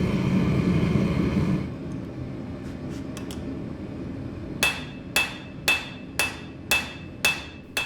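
Heated brass struck with a hammer while shaping a katana, about eight sharp metallic blows at a steady rhythm after a stretch of loud forge roar, close and clear.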